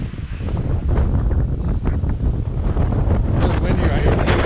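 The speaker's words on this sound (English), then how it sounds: "Really windy right" Strong gusty wind buffets the microphone at a mountain lookout on a high trail up Mt. San Gorgonio, California, a loud continuous low roar with rushing swells.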